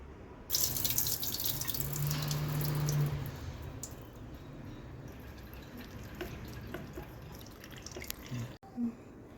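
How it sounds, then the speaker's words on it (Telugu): Tamarind being washed under a kitchen tap: steady running water splashing into a bowl or sink with soft drips and squishing, fairly close, with no talk. "కొంచెం చింతపండు కడిగి నానబెట్టుకోవాలి"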